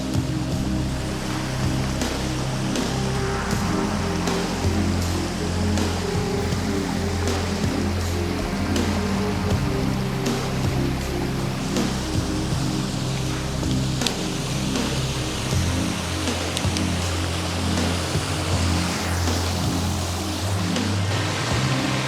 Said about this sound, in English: The sound from that waterfall is beautiful.